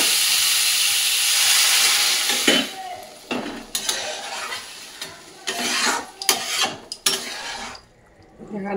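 Water poured into a hot pan of well-fried spiced curry bursts into a loud rushing hiss of steam that fades, then clatters and scrapes of a spoon stirring against the pan follow in short bursts.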